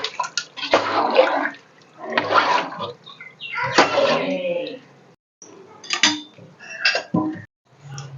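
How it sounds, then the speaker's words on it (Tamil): Water poured by the tumbler into a cooking pot for mutton biryani, several splashing bursts with pauses between them, close up. "10 டம்ளர் தண்ணி விட்டுக்கிறோமா."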